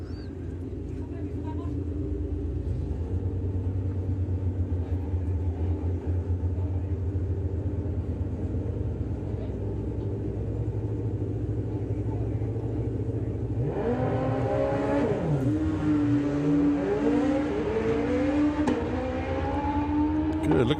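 A Kawasaki and a Hayabusa drag racing motorcycle launch side by side at a drag strip, a steady distant engine rumble building into sharp rising and falling revs near the end, with no talk heard.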